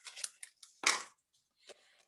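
Scissors snip through a paper cone during card crafting, a few crisp cutting bursts with one louder central cut and a fainter snip near the end, close and alone.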